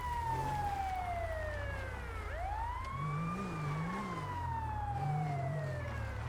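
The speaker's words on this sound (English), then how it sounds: "I can't take that siren in my fucking ears." A wailing police siren in GTA V's LSPDFR mod sweeps down and back up in long cycles, steady and prominent over a low rumbling vehicle engine, with no voices.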